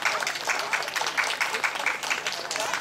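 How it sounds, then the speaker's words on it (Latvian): An outdoor festival audience applauds young singers, steady dense clapping from a sizable crowd held at moderate distance, continuous throughout with no clear voices on top. "Kārtīgi aplausi viņiem visiem."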